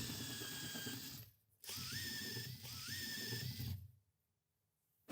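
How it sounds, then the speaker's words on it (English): A power drill whines in two close bursts, its pitch rising as it bites in to drill out rivet heads on a VW T5/T6 van, separated by a short pause, then silence. "we first have to drill into the rivets with a drill and remove the head"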